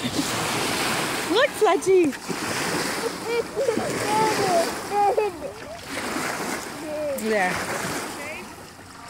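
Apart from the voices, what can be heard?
big waves splashing around a kayak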